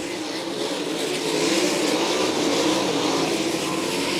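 Sprint cars race down the back straightaway of a dirt oval, a dense continuous roar of several engines blending together, loud and steady throughout with no talk.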